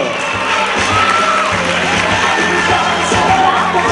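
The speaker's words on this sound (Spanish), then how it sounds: "Un aplauso." A secondary school graduation crowd cheers and shouts in a loud, continuous wash of noise, with whoops and a low steady hum beneath.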